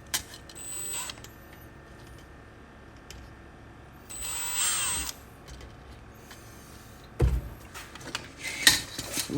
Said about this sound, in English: sometimes drilling out the rivets when they're messed up are the hardest